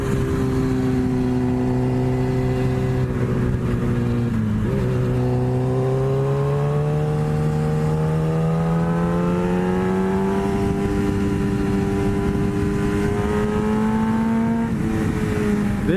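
Yamaha FZ1 motorcycle being ridden, engine and exhaust droning loud and close, pitch climbing steadily under acceleration and dropping briefly at gear changes.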